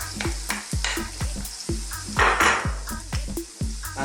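Finely chopped onions sizzling in about a centimetre of hot oil for lamb karahi, loud close frying with rhythmic clanks of a utensil against the pan and stirring scrapes, no talking.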